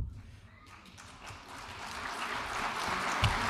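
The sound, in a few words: audience applause at political speech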